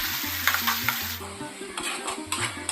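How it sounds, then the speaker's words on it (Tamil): Tomato and onion sautéing in a pan for green peas potato masala, a bright continuous sizzle broken by repeated stirring scrapes, close and moderately loud, with a low hum running underneath. "இப்போ நம்ம சேர்த்துக்கிட்ட தக்காளியை நல்லா மசிஞ்சு வரணும்,"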